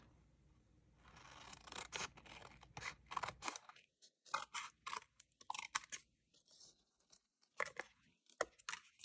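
Scissors trim card paper up close, with faint rustling handling followed by a series of crisp, irregular snips and cuts, quiet overall.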